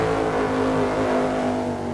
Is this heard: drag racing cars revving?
yes